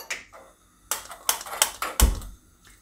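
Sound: gas stove being switched on

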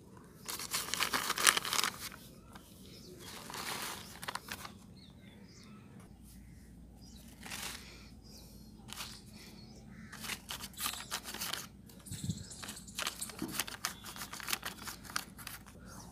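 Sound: garden soil mix filled into polythene bags

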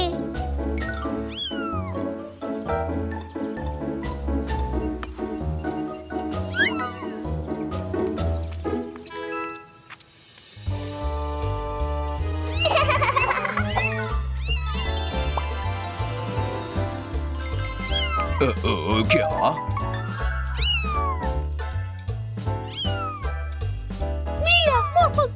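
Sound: kittens meowing in a cartoon

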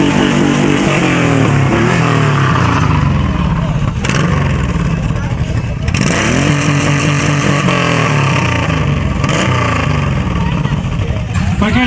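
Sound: motorcycle engine idling at a bikers' rally

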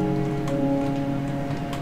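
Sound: rain falling in the video game Minecraft

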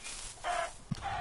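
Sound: chickens clucking in video game

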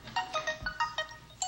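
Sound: telephone ringtone

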